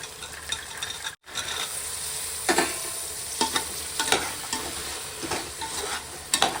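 Mushrooms, green chillies and green peas sauté in a pan with a steady sizzle and repeated scraping stirs of a spoon, after a brief dropout near the start.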